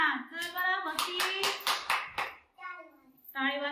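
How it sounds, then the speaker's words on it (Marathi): Young children clap their hands in a first-grade reading lesson, a quick run of sharp, close claps under a voice, followed by more speech. "टाळ वाजवा."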